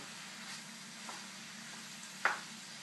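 Ground meat browning in a pan with onion, garlic, carrot and celery for ragu alla Bolognese, a faint steady sizzle with one brief scrape of a utensil near the end.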